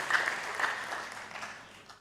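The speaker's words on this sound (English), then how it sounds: "I think you should clap for that journey" An audience at a memorial lecture and fundraiser applauds, a soft, dense patter of clapping that gradually fades out over two seconds.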